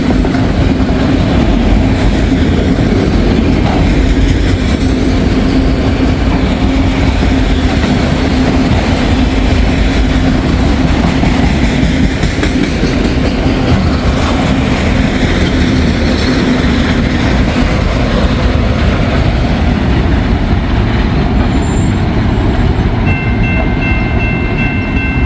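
A long freight train rolls past near a very old bridge, manifest cars leading and auto racks following, with a steady loud rumble and wheel clatter throughout and faint music somewhere nearby.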